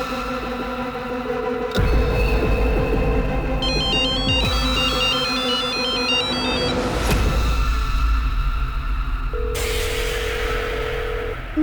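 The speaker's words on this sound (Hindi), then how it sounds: "फोन अंदर बज रहा है" A telephone rings inside a locked room, its electronic ringtone repeating steadily over low background rumble and music, with no one speaking.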